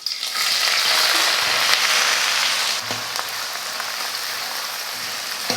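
Loud, steady sizzling of chopped onions frying in hot oil fills the clip, with a brief stirring scrape partway through and no talking.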